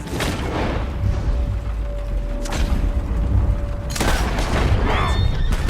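Gunshots boom in Red Dead Redemption 2, with a heavy blast near the start, another around the middle and a loud burst about two-thirds through, each standing out over a rumbling, mechanical game background.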